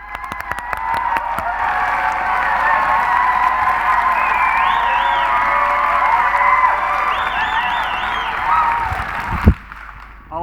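Live audience applause and cheering at a talk on challenging conversations, a dense sustained roar of clapping, whoops and shouts that holds at full volume for about nine seconds before cutting off abruptly.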